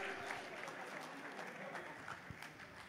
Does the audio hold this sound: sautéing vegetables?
no